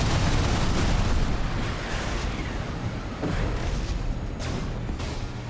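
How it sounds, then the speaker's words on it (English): Missile salvo explosions from the video game Armored Core VI, a dense, loud barrage of booms and blasts rolling continuously, with a few sharper impacts near the end. "Riser has launched a salvo of those missiles. They find their mark."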